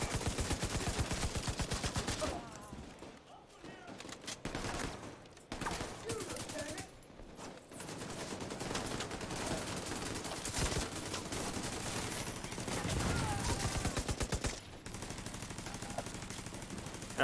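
Sustained automatic gunfire in the video game The Division: dense, rapid bursts of shots with brief pauses, loud throughout, while players talk over the shooting.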